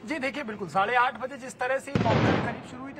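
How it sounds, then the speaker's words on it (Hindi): Someone talks, then a single loud blast from a security mock drill at Birla Mandir, Jaipur, cuts in sharply near the end, its noisy rumble lingering for a moment. "धमाके की आवाजें हैं वो आपको सुनाई दे रही है साफ तौर पर कैमरे में"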